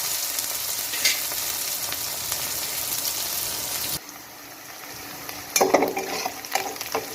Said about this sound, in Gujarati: હવે આપણે ડુંગળીને સરસ શેકાવા દઈએ અને ગોલ્ડન બ્રાઉન થાય ત્યાં સુધી